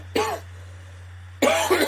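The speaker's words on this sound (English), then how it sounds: "Sorry, I'm just going to cough." Two close, sharp coughs from one person, separated by about a second of quiet room hum, the second burst longer and rougher than the first.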